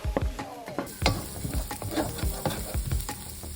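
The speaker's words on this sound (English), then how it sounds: "Toss in the carrots into the wok and stir it up for 2 minutes." Diced carrots are stir-fried in a wok, with a continuous sizzle broken by repeated scraping strokes of a spatula in a quick, uneven rhythm, heard close up and without talk.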